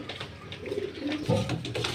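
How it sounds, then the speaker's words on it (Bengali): A Rajshahi pigeon coos in low, soft, throaty bursts, close by, with a murmur of other birds around it. "এই যে এক পিস রাজশাহী কবুতর বলে পাকিস্তানি কবুতর"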